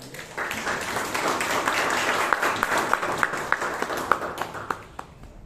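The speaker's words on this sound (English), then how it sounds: "Can we have a huge round of applause to Kenneth?" Audience applause at a Toastmasters club meeting in Bangalore: a steady wash of many hands clapping throughout, moderately loud and close, with a few sharper individual claps standing out toward the end.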